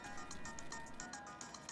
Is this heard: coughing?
no